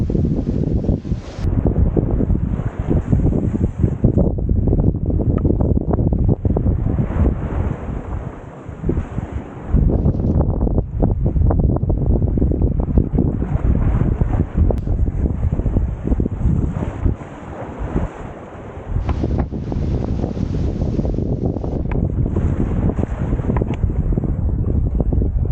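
Strong wind gusting across a sailboat at sea, with no mainsail raised, running at about 5 knots as gusts climb past 30 knots; loud, continuous buffeting roar against the microphone throughout, with brief dips in intensity.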